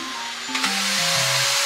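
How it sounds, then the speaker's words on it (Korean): A vacuum cleaner's dust bin is emptied indoors at home: a brief, loud, steady whirring with shifting tones and a short rattle partway through, without speech. "청소기 먼지통 비우는 소리가 꽤 큰데도 우리 아기는 잘 안 일어나더라고요"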